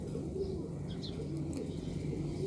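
A male pigeon coos softly and repeatedly, low rounded calls over a steady background hum, with a few faint chirps above.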